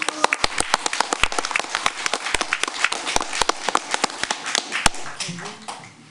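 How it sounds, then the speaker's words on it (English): Applause from the audience at a regular board meeting, many individual claps ringing out sharply in an uneven patter, fairly near, tapering off at the end as a voice begins. "let's give them again a round of applause as well"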